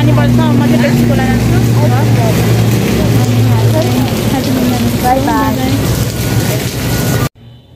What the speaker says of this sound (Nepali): अब पानी पर्छ